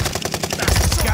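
Gunfire in a Call of Duty Warzone match: a fast run of rapid shots that grows louder and denser toward the end of the short burst, with no speech over it.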